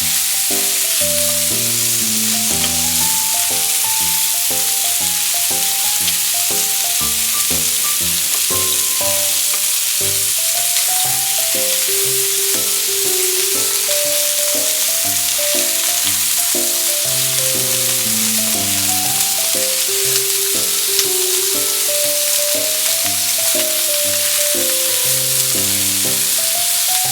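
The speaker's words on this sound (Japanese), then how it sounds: "分厚いからもうちょっと2分よりちょっと多めに焼きますね" A thick Yokkaichi tonteki pork steak fries in a pan with a constant, loud, crackling sizzle that runs without a break beneath background music.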